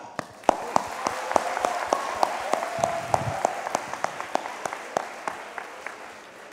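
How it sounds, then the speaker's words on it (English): Scattered audience clapping in a parliament house, a group of people striking distinct, fairly evenly spaced claps that sound slightly sparse rather than a dense ovation, with faint voices underneath. "For them, let us have a clap."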